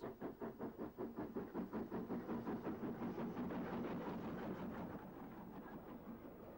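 A steam train on the Isle of Wight line at Shanklin chuffs with strong rhythmic beats that quicken, then settles into a steadier rolling rumble as it runs in, close and loud with no talk.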